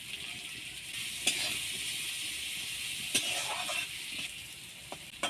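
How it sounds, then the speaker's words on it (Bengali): Cut carrots frying lightly in hot mustard oil, a soft, even sizzle with a few scattered clicks of stirring, fairly faint and steady throughout. "তেলটা গরম হয়ে গেছে, এবার কেটে রাখা গাজরগুলো আমি হালকা ভেজে নেব"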